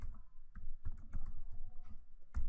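Someone typing on a computer keyboard, a short run of soft, irregular key clicks close up over a quiet room, with no voices.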